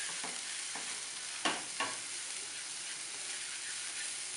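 Sauce being stirred in a frying pan for a mushroom risotto and port wine medallion dish, a steady soft sizzle and hiss with a few brief louder scrapes of the spoon against the pan, close and without talk.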